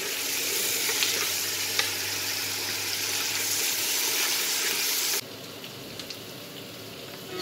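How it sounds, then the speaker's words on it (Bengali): Prawns fry in a paste of cumin, garlic and onion, giving a loud continuous sizzle with occasional pops that drops suddenly to a quieter crackle near the end. "সেই মশলাটা দিয়ে একসাথে চিংড়ি মাছটা আমি কষিয়ে নিব।"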